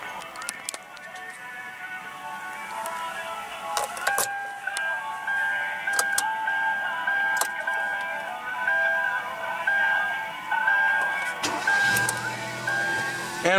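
A 2015 Kia Rio's 1.6-liter four-cylinder engine idles steadily at a moderate distance, a soft even hum with faint whine and occasional clicks and knocks over it.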